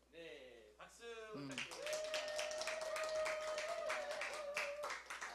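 An audience applauds at a Christian talk before a question session. A voice speaks briefly, then dense clapping swells and holds steady to the end, with a faint hum underneath.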